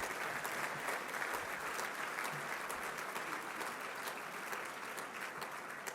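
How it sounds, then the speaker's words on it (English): Warm, steady applause from a dinner audience at a military fundraising event honoring a general, a continuous even wash of many hands clapping at moderate distance for six seconds. "Let's have another round of applause for Dianna and General Votel."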